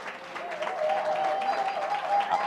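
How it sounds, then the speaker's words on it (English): A business presentation audience applauds standing guests, a moderate wash of clapping with scattered voices rising over it, fairly distant in a large room. "give all the guests stand up and give them a round of applause"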